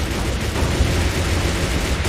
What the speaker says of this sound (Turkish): Ses, silah sesleri kesildi.